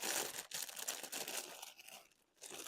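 Plastic bag being crinkled and handled near a cat, crisp crackling rustles bursting irregularly over close range with a brief lull before more crumpling.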